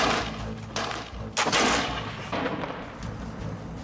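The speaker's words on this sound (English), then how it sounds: "fired musket shots into targets to try to replicate the victim's wounds" A reproduction British Brown Bess musket fires into targets in a forensic ballistics test, with several loud, booming shots and a long rumbling tail, the strongest blast near the middle.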